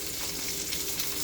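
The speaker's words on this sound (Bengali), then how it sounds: "চুলার জালটা অফ করে দিলাম, মাছগুলো ভাজা হয়ে গেছে।" Hilsa fish fry in hot oil in a pan with a soft, steady sizzle that runs evenly throughout, fairly quiet and close.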